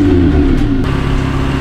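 Lamborghini Huracan engine firing up and running steadily, a loud, dense low rumble close by with a brief surge, no talk over it.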